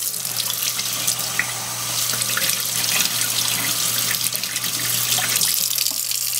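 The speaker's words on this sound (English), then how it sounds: "Then we'll get you some slow water rolling." Water runs steadily from a tap into a sink, a loud, continuous splashing rush with a low hum underneath, holding even for the whole stretch without voices.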